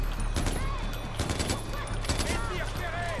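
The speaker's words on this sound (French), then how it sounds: "je tire dessus 50 millions de fois" Rapid bursts of gunfire from the video game Far Cry 4, repeated volleys over a steady low game hum, with a player's voice talking over parts of it.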